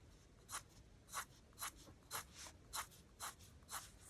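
A pencil sketches on a junk journal page, soft, quiet scratchy strokes in a steady rhythm, about eight short scribbles spaced roughly half a second apart.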